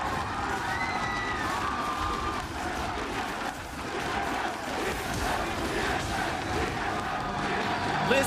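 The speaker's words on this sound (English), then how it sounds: "Listen to that crowd." At an esports match, a large crowd cheers and chants continuously, a dense roar with shouts rising out of it, heard from within the arena at a moderate level.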